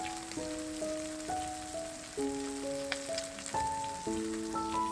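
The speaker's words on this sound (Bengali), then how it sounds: "তেলে আলু দিয়ে দিয়েছি" Potatoes frying in oil give a constant, moderate sizzle and spatter, heard beneath a gentle background melody of sustained notes.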